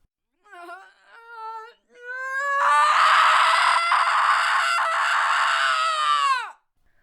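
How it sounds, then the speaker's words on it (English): A human voice builds from short rising cries into one long, loud, agonized scream recorded for a music track, sustained for several seconds before cutting off, close and alone. "And then I screamed."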